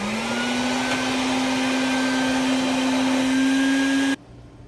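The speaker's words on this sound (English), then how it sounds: "once you use the shop vac to get all the sand out in a really dirty tank" Shop vac sucking sand substrate out of a dirty reptile tank, a loud steady motor whine with rushing airflow that holds for about four seconds and then abruptly stops.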